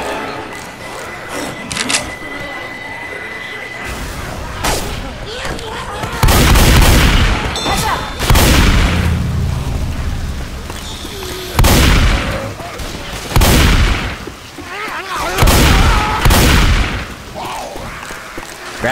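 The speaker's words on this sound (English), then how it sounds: "Throwing a pipe bomb." Pipe bomb blasts in Left 4 Dead 2 during The Passing's Riverbank chapter, several loud booming explosions with gunfire and rumbling thuds spread across the stretch amid chaotic game noise.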